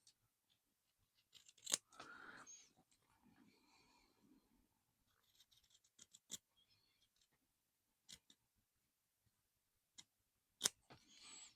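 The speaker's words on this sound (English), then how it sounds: "Let's use the smaller scissors and get in a" Small scissors cut fabric for a no-sew craft project, giving sparse, crisp snips and one or two double clicks spread out over quiet stretches, with some soft rustling of cloth between them.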